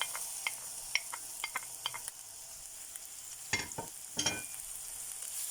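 Grated onion and a clove of garlic sauté in a couple of spoonfuls of oil, a quiet continuous sizzle broken by soft scraping strokes of a spoon, with two louder stirring bursts near the end.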